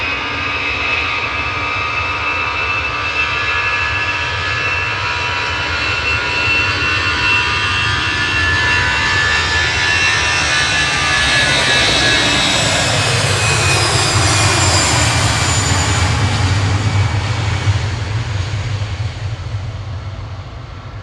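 An EasyJet Airbus A320 departs Manchester Airport with a loud, steady jet engine roar that swells and rises in pitch to a peak midway, then holds before easing slightly, with no other sounds.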